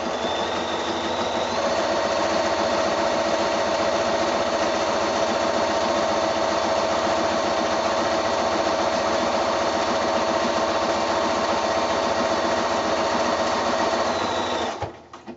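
A sewing machine runs a steady zigzag stitch along raw fabric edges to overcast them for a quilted shoulder bag, a loud continuous whirring hum with rapid needle rhythm for about fourteen seconds before stopping abruptly.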